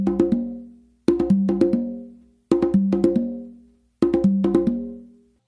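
Congas ring out in four quick flurries of flammed open tones, each cluster of close double strokes sounding bright and resonant, with short silent gaps between the phrases and no voices.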